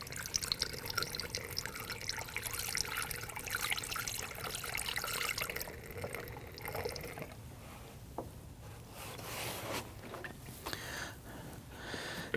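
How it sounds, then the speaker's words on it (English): Coolant pouring through a funnel into the reservoir of a 2009-2017 Volvo XC60, a steady close liquid splashing and trickling that thins toward the end, with no talk. "I'm going to go ahead and fill this up to the full line on the side of the reservoir."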